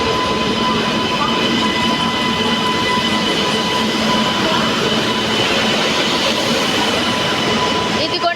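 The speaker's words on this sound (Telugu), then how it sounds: "ఇదిగోండి వచ్చేస్తుంది కొత్తగా ఇనార్గరల్ రాబోయే ట్రైను." Inaugural Kakinada–Mysuru special train pulling into a station platform, a loud, steady rumble of rolling coaches and wheels with a faint squeal, continuous throughout.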